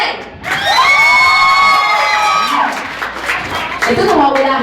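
A live crowd at a comedy show cheers and shouts loudly, with children's voices and whoops rising together in a sustained burst, then trailing off before a second swell of shouting and some clapping.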